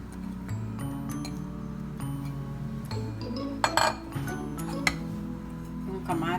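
Pansit-pansitan (Peperomia pellucida) goes into a big bowl with a scatter of light glassy clinks and taps, some sharper knocks near the middle, under continuous talking.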